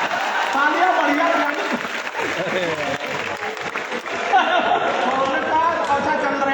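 A crowd at an open-air kavi sammelan during a town festival in Azamgarh claps steadily. The clapping mixes with chatter and shouting voices, and it swells again toward the end.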